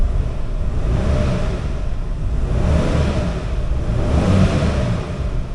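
An Isuzu Trooper Limited's 3.5-litre 6VE1 V6 revs up and eases off in broad, rumbling swells, heard close and loud with no one talking, from a truck whose transmission is bad.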